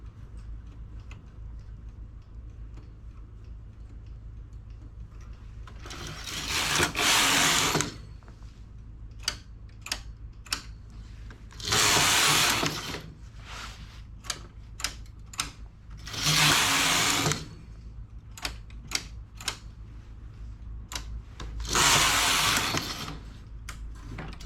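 A knitting machine carriage working jacquard stripes sweeps across the bed in several loud rushing passes, separated by sharp clicks and ticks of needle selection at a quiet workbench.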